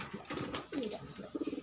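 Pigeons cooing close by on a rainy afternoon, a short run of soft throaty coos ending in a rhythmic pulsing burst, with no talk.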